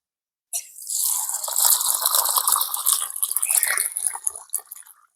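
Rice washed by hand in a vessel of water before it goes into a clay pot in a village kitchen, with close sloshing, swirling and splashing that starts abruptly and continues for several seconds.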